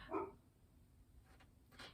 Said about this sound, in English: Thank you, Bella, for barking downstairs.